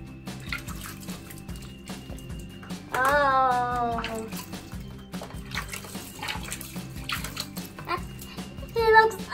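Water is poured over a kitten during its bath, a running, splashing stream that rises and falls in waves, with a voice talking over it and a brief high cry partway through.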